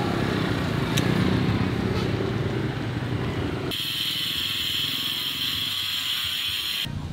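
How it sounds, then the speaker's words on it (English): Motorbike engines buzz and drone steadily on a busy Saigon street, shifting in pitch as vehicles pass nearby, with a constant hum of traffic throughout. "sometimes motorbikes and the cutting of tile are the official sounds of Saigon"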